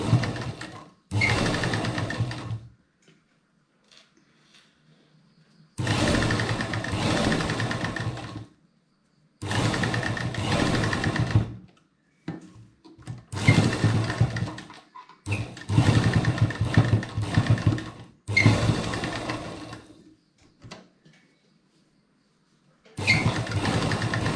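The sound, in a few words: sewing machine stitching a fabric face mask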